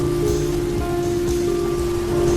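Steady heavy rain pattering on a moving truck, a dense constant hiss with a low engine-like hum beneath it.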